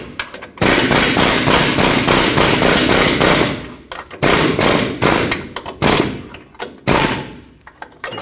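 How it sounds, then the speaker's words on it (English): An air chisel hammers out the lower control arm ball joint on a 2004-2008 Ford F-150, with loud rapid pneumatic bursts of rattling impacts repeating in several runs with short pauses. "I'm going to punch it out with the air chisel"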